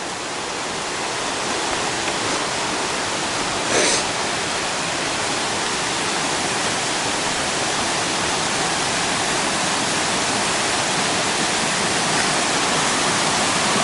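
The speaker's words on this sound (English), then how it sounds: "It's Comer's Creek Falls." A waterfall, Comer's Creek Falls on the Appalachian Trail in Virginia, roars steadily throughout, a dense, constant rush of falling water heard up close with no voices.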